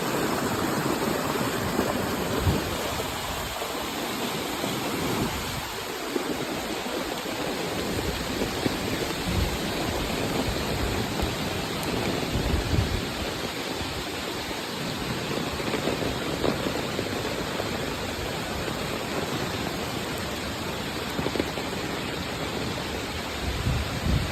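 Heavy Konkan rain and rushing floodwater make a broad, unbroken roar that holds close and loud throughout, with no voices.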